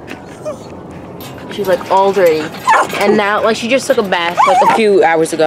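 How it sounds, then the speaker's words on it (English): Pet dogs yipping, whimpering and barking close by at home after coming in from outside, repeated bursts mixed in with someone talking over them. "And right now, you guys might hear my dogs"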